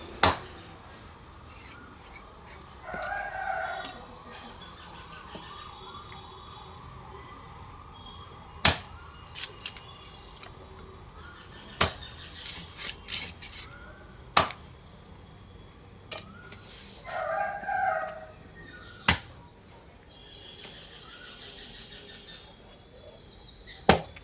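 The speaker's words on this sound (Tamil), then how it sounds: "கட் பண்ணிட்டேங்க" Sharp, isolated knife chops strike a board at irregular intervals as chicken is cut, with softer rubbing and scraping sounds in between; no one speaks.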